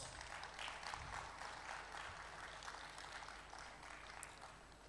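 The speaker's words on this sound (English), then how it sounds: "Another round of applause." A round of applause from the audience at an automotive summit in Ghana, a steady wash of many clapping hands at moderate distance, fairly faint and even throughout.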